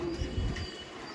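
Sambalwale pigeons from Uttar Pradesh give a brief, soft low coo, close by but faint, with no one speaking over it.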